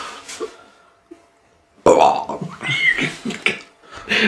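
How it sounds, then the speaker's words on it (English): A person lets out a long, loud, gurgling burp up close, and it follows a few quieter throat sounds and a near-silent pause. "That was like a process burp"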